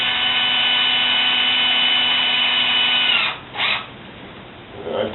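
A power drill with its clutch set to the lowest snugs up wheel bolts while mounting tires on a Creeper clone build, a loud steady whine that cuts off into brief ratcheting bursts, close by.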